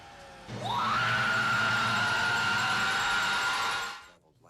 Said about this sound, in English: whenever a pod person notices a real person, they point and do this obnoxious scream